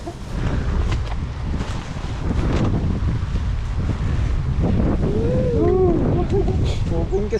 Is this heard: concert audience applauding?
no